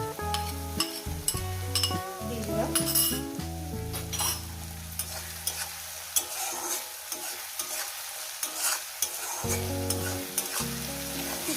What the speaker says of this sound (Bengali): পেঁয়াজ ভাজার মধ্যে দিয়ে দেবো কাঁচা লঙ্কাটা তাতে কাঁচা লঙ্কাটাও যাতে ভাজা হয়ে যায়